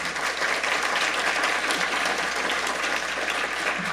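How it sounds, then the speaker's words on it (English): Steady applause from an audience at a public forum on northern waterfront economic development, a dense, even wash of clapping that holds at full strength for the whole four seconds. "So let's give them a round of applause."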